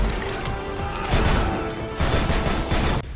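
Gunfire from a swing-out-cylinder conversion revolver in a film shootout, a dense, loud burst of overlapping shots and crashing impacts filling the whole scene without letup.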